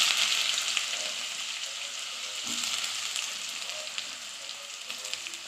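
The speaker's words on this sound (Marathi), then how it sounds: "आणि मग आता त्याच्यात टाकत आहे कांदा फ्राय व्हायला" Onion frying in hot oil with cumin and asafoetida, a steady close sizzle with a bright hiss that softens slightly over time, with faint stirring scrapes.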